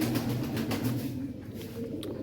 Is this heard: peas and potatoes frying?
no